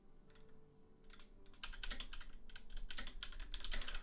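A computer keyboard is typed on loudly and up close, with rapid clustered clicks. The clicking starts sparse, then grows into a dense, continuous run of keystrokes.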